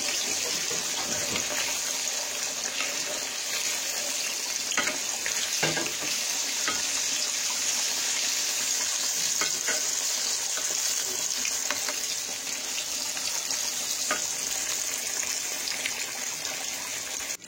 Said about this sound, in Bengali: ইলিশ মাছ ভাজি।